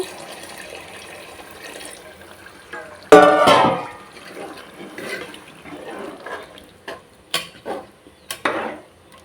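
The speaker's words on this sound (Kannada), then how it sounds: "ನೀರನ್ನ ಹಾಕ್ಕೊಳ್ಳಿ" Water poured into soaked rice in a pot for veg biryani, a sudden close splash and gush followed by a few lighter clinks and stirring sounds against a quiet kitchen.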